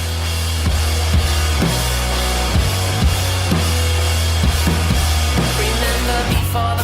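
A pop-punk song plays loud and dense, with driving drums, distorted guitars and bass in a steady rhythm throughout, no speech over it.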